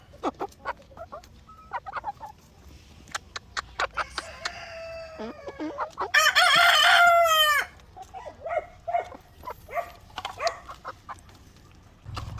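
Asil and shamo chickens in a muddy yard, with scattered clucks and pecking sounds throughout and one loud, drawn-out rooster crow rising in the middle, close by.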